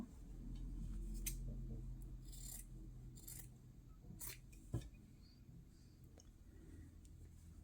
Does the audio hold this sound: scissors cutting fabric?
yes